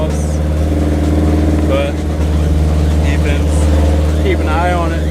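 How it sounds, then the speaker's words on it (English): A turbocharged Mazda Miata engine idles high with steady throttle, a loud constant drone held up near the car while people talk over it. "Keep my foot on the gas just a little bit to keep the RPMs up."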